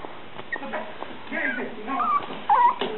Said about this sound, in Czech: No, hodně kníčí, to je.